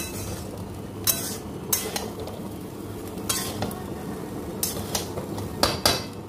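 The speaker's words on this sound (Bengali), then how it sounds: "এবার এটাকে ভালো করে মেশাবো, মিশিয়ে নিয়ে তারপরে ঢাকা দিয়ে দেবো" A spoon stirs garlic fried rice in a hot pan, giving a steady sizzle under repeated scraping and clinking strikes against the metal, several sharp taps scattered through the clip.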